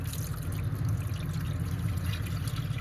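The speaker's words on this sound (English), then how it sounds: "now I'm going to get ready to add in my milk" Whole milk poured into flour in a pan while making baked macaroni and cheese, a steady continuous liquid pour with low rumbling, moderately loud and without talk.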